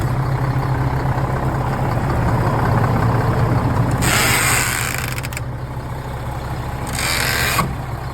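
A front-load garbage truck idles steadily with a low, continuous rumble, broken by two bursts of hissing air or mechanical clatter partway through.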